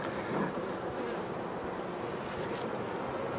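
Honeybees hum steadily at an open hive while a drone emerges from its brood cell, a dense continuous buzz close by and fairly loud with no voices.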